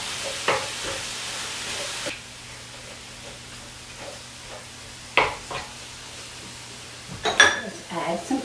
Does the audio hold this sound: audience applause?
no